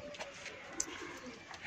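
Pigeons in a loft or coop, kept as breeding pairs for sale, give soft low repeated coos with faint chirps, close by and intermittent, with no talk.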